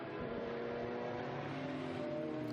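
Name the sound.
Chevrolet Corvette race car driving past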